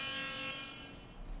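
An alarm blares inside the video game The Outer Worlds, a harsh buzzing electronic tone held for just over a second, loud and close.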